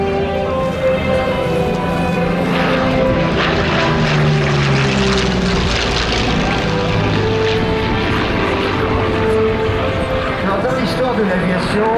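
A Curtiss P-40 propeller fighter flies at the 2023 La Ferté-Alais airshow, its loud, steady engine drone filling the whole stretch, with a commentator's voice partly buried beneath.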